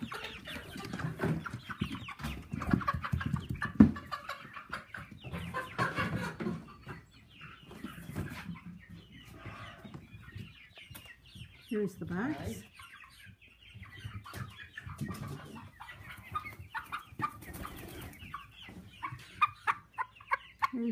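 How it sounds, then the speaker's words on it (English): Chickens cluck and squawk at close range in irregular bursts while being moved from a cage into a box, with a person speaking briefly among the calls. "I'm putting the chickens in a box"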